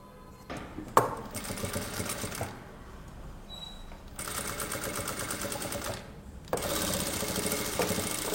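A sewing machine stitches fabric in three bursts of fast, buzzing mechanical whirring, each lasting about two seconds and separated by short pauses, close by and clear, with no one talking.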